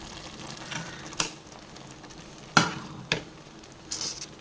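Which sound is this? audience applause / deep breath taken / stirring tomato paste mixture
stirring tomato paste mixture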